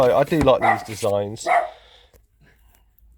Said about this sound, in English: The dog was barking, so I had to shush him.